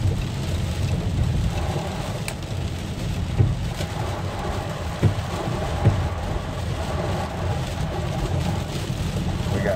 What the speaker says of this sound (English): We got heavy rains and winds are just now starting to pick up.